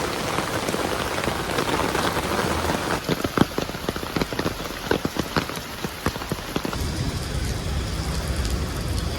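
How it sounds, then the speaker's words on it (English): Heavy monsoon rain pours steadily on surfaces with dense pattering and occasional louder drops, a continuous close wash with faint traffic noise beneath. "There's some rain ASMR for you all."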